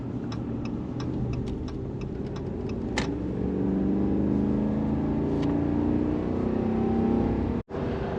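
A car drives along highway 58 toward California City in the desert, a steady engine and road drone with a rising engine tone midway, some faint ticking early on and a brief dropout near the end.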